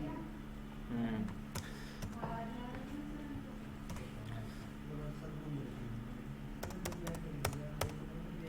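Keyboard keys clatter in scattered bursts while entering a payment in accounting software, with a few sharper key presses near the end, all over a steady background hum and occasional speech.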